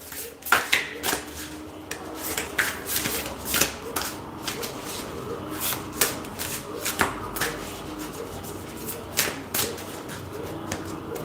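Tarot cards are shuffled in quick, papery riffles and slaps, repeated bursts close by over about eleven seconds, with a voice talking intermittently underneath.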